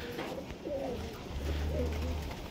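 High-flyer pigeons coo softly in a few low, throaty phrases, fairly faint, over a quiet hum of background noise.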